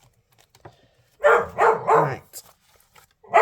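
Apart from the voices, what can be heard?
dog barking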